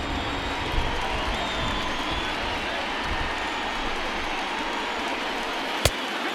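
A stadium crowd at a baseball game in MLB The Show 20 sends up a steady, broad roar of cheering and murmur throughout, with one sharp crack standing out near the end.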